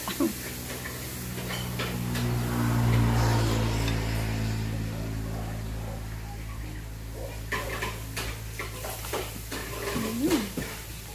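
Pad thai being stir-fried in a pan, with utensils scraping and clinking against the metal over a steady frying hiss, while people talk nearby throughout.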